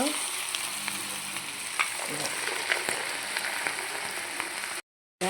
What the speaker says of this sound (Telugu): ఆయిల్ అయితే ఇప్పుడు మనం పకోడి వేసేసుకుందాం